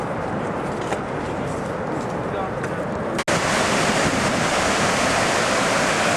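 Kepler Cascades waterfall in Yellowstone National Park, snowy in early June, a loud continuous roar of rushing water with wind buffeting the microphone, broken by a single sharp cut midway.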